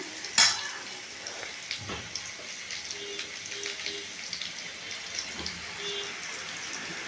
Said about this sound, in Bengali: ভালোভাবে নাড়াচাড়া করবো